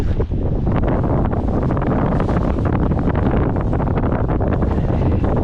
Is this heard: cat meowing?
no